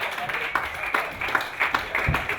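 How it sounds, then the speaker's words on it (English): A stand-up comedy club audience claps steadily in a continuous patter of applause for comedian Joe List, moderately loud and close, with some faint voices mixed in. "Please give a big round of applause for Joe List"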